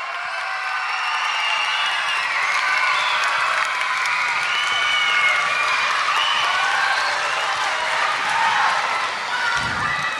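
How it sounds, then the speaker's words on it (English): A school audience claps loudly and steadily at a fourth grade musical, a dense, sustained wash of many hands filling the room without a break. "Now that was a pretty good job on applauding"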